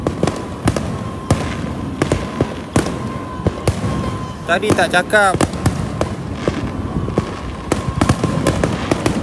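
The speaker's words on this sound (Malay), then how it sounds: "Ni bunga api raya tahun lepas ni kan." Fireworks pop and crack in scattered bursts at varying distances in Melaka, while a person speaks briefly in the middle over the bangs.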